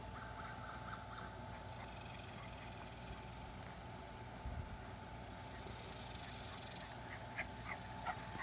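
Whimpering from a litter of six-and-a-half-week-old puppies, mostly faint and steady under a low indoor background, with a couple of brief, higher yelps near the end.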